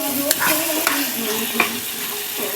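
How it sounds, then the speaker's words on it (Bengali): Four eggs frying with tomatoes in a pan: a steady close sizzle runs throughout, broken by a few sharp scraping stirs. "এর মধ্যে আমরা 4টা ডিম অ্যাড করবো।"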